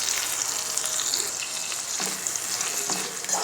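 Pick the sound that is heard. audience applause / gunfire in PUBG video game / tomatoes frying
tomatoes frying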